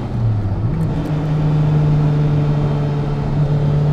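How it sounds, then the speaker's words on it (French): Twin-engine Audi TT at full throttle, heard from inside the car as a loud, steady engine drone with a pitch that rises briefly near the start and then holds, with no talking. "Allez, j'accélère à fond là pour vous montrer."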